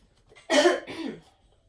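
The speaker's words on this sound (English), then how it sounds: "I'm gonna clear my throat really quickly too" A single throat clearing, close and brief, a rough two-part rasp in an otherwise quiet room.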